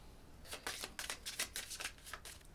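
Pandemic Legacy board game cards being shuffled into the player deck, a quiet close series of quick riffling flutters in several short bursts.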